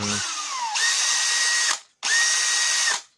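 A Makita 483 cordless drill spins up to a high, steady whine twice, each run lasting about a second before cutting off abruptly, loud and close.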